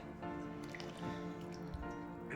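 Melted butter poured into a fresh-milled flour mixture for cheese scones, a soft close dripping and squishing of liquid over a steady low hum.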